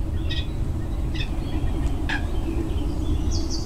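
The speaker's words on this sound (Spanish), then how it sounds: "Ahora mismo podemos escuchar el tren." A train passes outdoors as a steady, low rumble during a live morning broadcast, with a few faint bird chirps above it.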